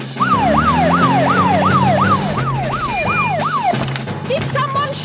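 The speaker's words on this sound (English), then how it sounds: "To the police car!" A cartoon police car siren wails in rapid rising and falling sweeps over a low engine hum, then cuts off partway through. Fainter sounds follow.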